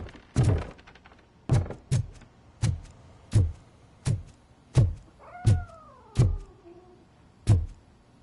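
A cat meows repeatedly in RoboCop Rogue City, a steady run of about ten short, close cries spaced roughly half a second to a second apart, with a soft electronic tone in the background partway through.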